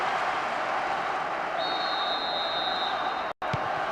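A stadium crowd roars and cheers after a goal in the football video game PES 2009 on PS2, a dense continuous wall of noise with a thin whistle-like tone partway through, briefly cutting out near the end.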